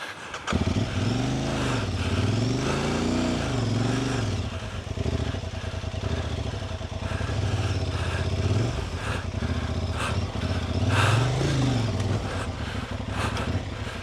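An Aprilia Tuareg motorcycle engine labouring uphill, a loud, close, steady drone with repeated rising and falling revs as it struggles for grip.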